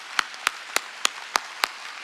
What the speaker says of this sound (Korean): 박수 치라. 박수 치라고